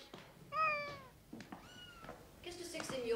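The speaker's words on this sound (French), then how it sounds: "Qu'est-ce que c'est que ces miaulements?" A cat meows several times up close, clear rising and falling calls in short bursts, with a voice speaking between them.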